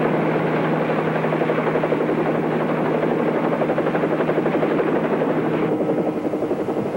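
A helicopter hovers near a hillside ridge, its rotor making a loud, even, pulsing drone that holds steady throughout and dips slightly toward the end.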